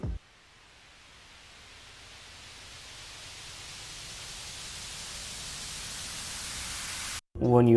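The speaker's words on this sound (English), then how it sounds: "I added a white noise too, a reverse one." A reversed white-noise riser layered into a future bass track swells steadily louder for about seven seconds, then cuts off abruptly as synth tones enter.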